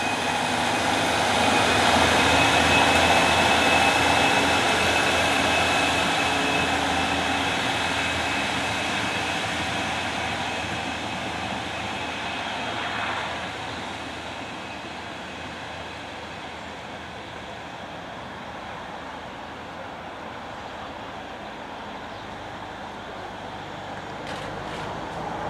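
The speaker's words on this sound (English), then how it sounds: "departing now is the 1222 Great Western Railway service to Bristol Parkway from Weston-super-Mare." A Great Western Railway service to Bristol Parkway departs the station, a broad, steady rumble and engine roar that starts loud and gradually fades over about 25 seconds, with no talk.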